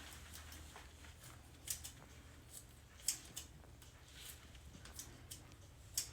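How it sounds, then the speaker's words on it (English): Scissors snip bacon into small pieces in a home kitchen, giving a few faint, sharp clicks spread out over quiet background hiss. "we'll take our bacon and we'll just cut it in small pieces with the scissors"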